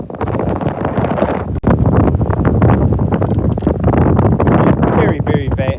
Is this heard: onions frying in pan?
no